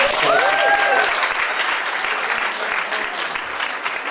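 A fundraiser audience gives a loud, dense round of applause that carries for about four seconds, with a voice calling out briefly over the clapping near the start.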